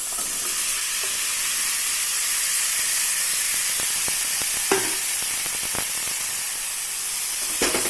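Loud, steady hissing sizzle in a hot pan, with a few faint clicks and scrapes as chopped raw plantain pieces go in and are moved around.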